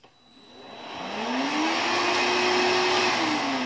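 A Hoover Rhapsody RA22HCG cordless upright vacuum cleaner whirs up from a soft start into a loud, steady motor whine with a rising tonal hum, running alone with no talk.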